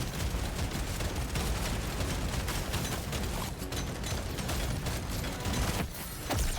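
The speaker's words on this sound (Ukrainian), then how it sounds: "плазма я стріляю вперед, вона відскокує назад" Plasma gun shots in Deep Rock Galactic: Survivor, bouncing back after being fired forward: a constant, dense barrage of rapid energy blasts and impacts with no pauses, loud and continuous throughout.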